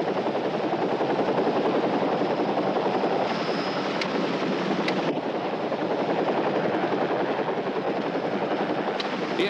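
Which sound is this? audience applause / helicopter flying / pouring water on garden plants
helicopter flying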